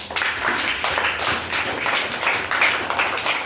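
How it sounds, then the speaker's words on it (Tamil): Children in a classroom clap together in a quick, uneven burst of overlapping claps that carries on steadily for a few seconds. "அதனால் அவளுக்கு எல்லோரும் கைத்தட்டுங்க"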